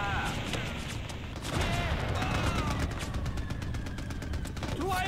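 Gunfire in the video game Mercenaries: Playground of Destruction, a fairly quiet stream of rapid automatic shots with scattered bursts over a busy battle backdrop.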